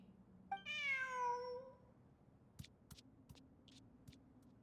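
A cat meows once in the video game Genshin Impact, a single rising and falling call standing alone over a quiet backdrop, followed by a few faint clicks.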